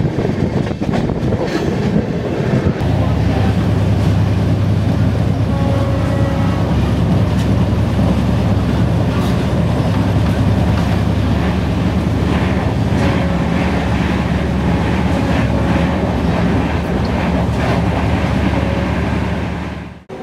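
The Sealdah New Alipurduar Padatik Express rolls along at speed, filling the carriage with a loud continuous rumble and rhythmic clatter of wheels over rail joints. It is steady throughout and has no talk.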